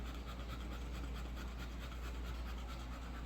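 Heavy, rapid panting in front of a black electric fan, a steady rhythm of quick breaths riding over a constant low whir, faint and close.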